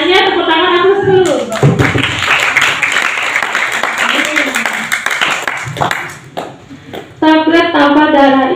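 Group of students clapping together at a health talk in an Islamic boarding school, a dense burst of claps lasting several seconds between stretches of someone speaking.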